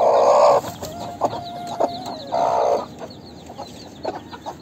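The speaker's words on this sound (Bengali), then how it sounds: "আর এই সাইডে এই যে মুরগিগুলো আছে, এটা ডিম নিয়ে বসে আছে" Silkie chickens on a farm cluck and squawk up close in short loud bursts, with quieter clucks from other hens scattered between them.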